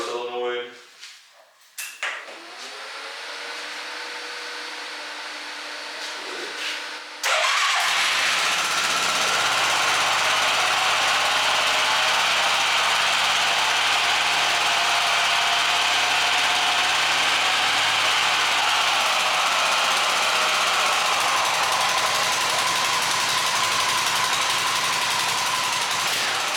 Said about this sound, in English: Just want to go ahead and show you guys that it does crank up by itself now and will idle by the switch